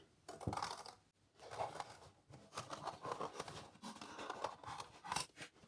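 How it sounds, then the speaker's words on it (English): Scissors snipping through stiff card at close range, a busy run of crisp cutting clicks and snaps with light paper rustle, no speech. "So on the back, I'm going to cut again."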